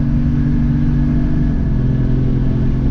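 A steady, loud car engine drone with low rumbling harmonics under hard load, holding a constant pitch throughout with no clear revving up or down.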